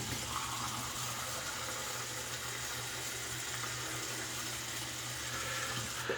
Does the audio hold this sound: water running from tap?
yes